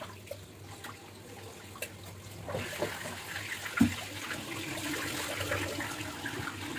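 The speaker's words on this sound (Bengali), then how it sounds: "যেহেতু আমি ভালো করে এখন ধুয়ে নিচ্ছি" Fish being washed by hand in water, a soft splashing and trickling that grows busier midway, with a single sharp knock, close and fairly quiet.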